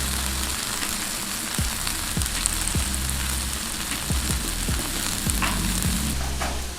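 Already-fried fish pieces are tossed into a pan of coconut oil and spices for fish chukka, giving a loud, steady sizzle with regular scraping strokes of a spatula stirring through it, and no voices.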